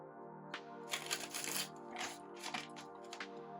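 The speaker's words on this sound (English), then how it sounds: "one more shuffle." Tarot cards being shuffled in quick riffling bursts, soft close-up flutters and clicks repeating over a steady low hum.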